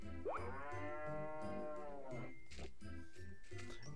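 A cow in the video game Harvest Moon: A New Beginning moos once in a long, drawn-out low call, clear and close, followed by a few soft clicks and taps.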